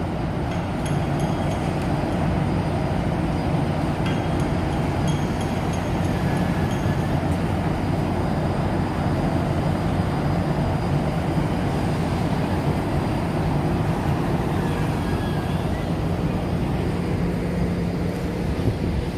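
A steady, continuous rumble of a passing train near the High Line in New York City lasts throughout, moderately loud and unbroken, with no voices.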